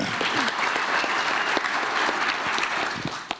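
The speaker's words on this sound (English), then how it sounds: "I got applause, you didn't." Audience applause at an awards presentation: a dense, steady burst of clapping from a crowd, loud and continuous, tapering slightly at the end.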